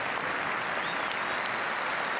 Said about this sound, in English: listen to the reaction of the crowd, acknowledging a magnificent rugby talent